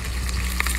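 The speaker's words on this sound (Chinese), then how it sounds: "葱姜蒜爆香" Scallion, ginger and garlic hiss in a hot wok, a brief close sizzle with a few small crackles and pops, no voices.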